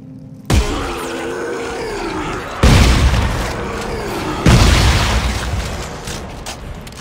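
Shotgun blasts in the sci-fi horror video game Dead Space 3, three heavy booming shots spaced a couple of seconds apart, each a loud sudden crack with a rumbling tail, over a low growling game ambience.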